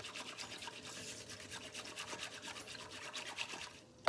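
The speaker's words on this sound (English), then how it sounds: "just keep whisking and whisking and whisking." A whisk beats a milk mixture in a bowl with a fast, steady scraping and tapping rhythm. It runs for about four seconds, close and soft, with no voices.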